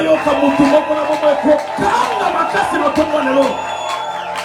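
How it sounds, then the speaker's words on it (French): A church congregation at a Sunday service cheers, whoops and shouts together in a loud, sustained wave of crowd noise, with claps mixed in through the whole stretch. "vos cris, vos applaudissements pour la gloire de Dieu"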